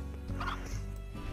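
Cartoonish poultry calls from a chicken in the video game Slime Rancher, a short run of gobbling, clucking notes over a steady game-music background.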